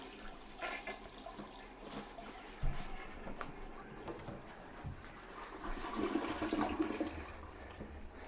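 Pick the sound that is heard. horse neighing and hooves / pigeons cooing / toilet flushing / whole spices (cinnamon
toilet flushing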